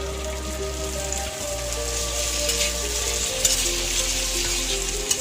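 Egg and potato pieces sizzle steadily in hot oil and spice paste in a pan, a close, even crackling with small spattering pops throughout and a low hum underneath.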